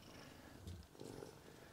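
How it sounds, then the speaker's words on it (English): A cat purrs softly in the background of a quiet indoor room, a faint, low rumble running through the short stretch. "You can hear Bert purring in the background."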